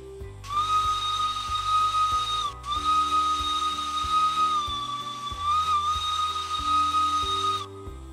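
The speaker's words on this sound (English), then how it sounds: "Yes, the whistle, which, it's a single chime." The single-chime steam whistle of the S060 locomotive in Derail Valley sounds as one long, steady, breathy tone with a hiss. It breaks briefly about a third of the way through and then sounds again, over a low in-game soundtrack.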